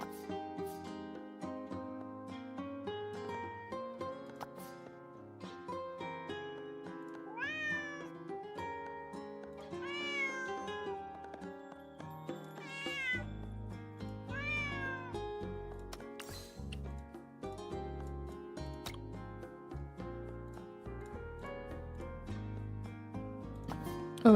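Game cats in Girls' Frontline 2: Exilium meow repeatedly over a bright, melodic music background, several distinct rising mews clustered through the middle of the stretch.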